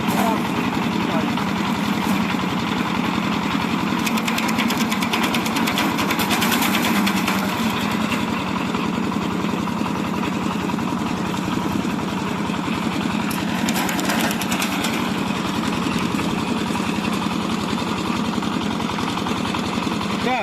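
A diesel branch chipper runs at idle, giving a loud, steady, unbroken engine drone close by for the full twenty seconds.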